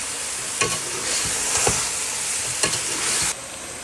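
Ground tomatoes and chillies frying in a pan while being stirred, a close steady sizzle with a few sharp spatula scrapes, ending abruptly.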